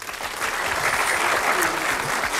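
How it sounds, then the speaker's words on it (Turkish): A studio or game-show audience applauds steadily at close range after a quiz answer about the first Moon landing, a dense even wash of clapping with faint voices mixed in. "Ya bırak alkışı"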